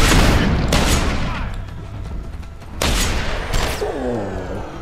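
Shotgun fire in the video game Deus Ex: Human Revolution, with loud booming blasts at the start and again near the three-second mark, separated by a quieter rumbling stretch.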